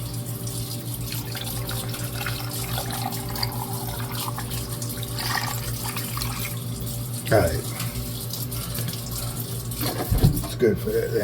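Water poured over rocks in a rock tumbler barrel during first-stage tumbling, a steady tap-like stream with a couple of brief splashing surges, and a voice speaking briefly.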